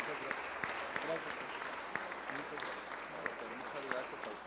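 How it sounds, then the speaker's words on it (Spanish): Audience applause for a maestro during a talk on dentistry in oncology patient care, a steady patter of clapping throughout with a few louder claps standing out. "les pido que le den un gran aplauso al maestro"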